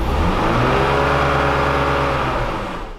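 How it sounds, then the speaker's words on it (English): A BMW engine with a vacuum leak revs up steadily, a loud, close, continuous rising mechanical roar with a strong low hum that eases slightly near the end. "But notice when the revs go up,"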